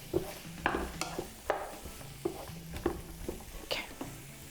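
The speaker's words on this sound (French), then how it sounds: "Bon, mélanger un petit peu le tout." A black bean mixture with spices being stirred in a pan, giving a run of soft scraping and clacking strokes in an uneven rhythm over a faint sizzle, close by.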